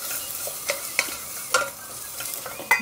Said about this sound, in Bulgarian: Сипвам лука и морковките.